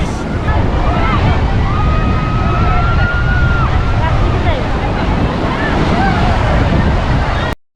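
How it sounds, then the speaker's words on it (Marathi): Ocean waves at Tarkarli beach on the Konkan coast, a loud, continuous roar of surf buffeted by wind on the microphone, with faint voices and calls scattered in the background. "तेवढी मोठी लाट आली चपला सगळ्या वाहून गेल्या"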